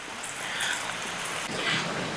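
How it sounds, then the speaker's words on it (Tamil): Heavy rain falling steadily outdoors during a rainy spell, a dense even hiss with no distinct drops, moderately loud and continuous throughout. "மழையும் பெய்யுது ஜோராக"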